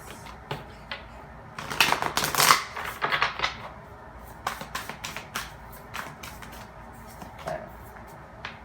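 Oracle cards from the Armensi Oracle deck being shuffled and pulled, with bursts of riffling and papery slaps followed by scattered light taps and flicks, close and fairly quiet.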